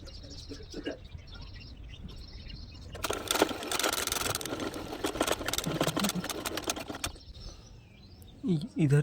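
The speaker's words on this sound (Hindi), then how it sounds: "अब मैं सिलाई मारना शुरू करूंगा।" A sewing machine stitches fabric panels for a dandiya costume, its motor whirring in a steady burst through the middle, quieter handling before and after, with a brief bird chirp near the end.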